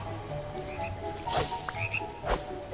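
Frogs croaking in the Disney Dreamlight Valley video game, a few short croaks over a steady layer of soft background game ambience.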